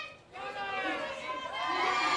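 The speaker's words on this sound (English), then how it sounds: "Now, quite a reaction from the crowd. Some cheers, some boos." A studio audience at a Big Brother UK eviction night reacts with mixed cheers, boos and crowd chatter, a swelling roar of many voices rising after a brief dip, heard at a moderate distance.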